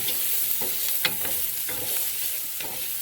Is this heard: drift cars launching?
no